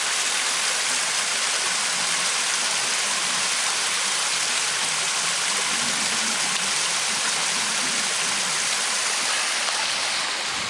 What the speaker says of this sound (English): That culvert is discharging water that goes through some tile lines.